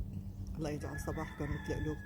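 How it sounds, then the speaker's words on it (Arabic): A rooster crows at a distance on a humid morning, its call rising over a man's nearby speech and faint background hum. "سامعين الديك؟"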